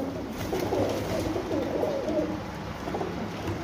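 Low, rolling coos from a female golden pigeon run steadily for a few seconds. The bird sounds close and fairly quiet, and nobody speaks.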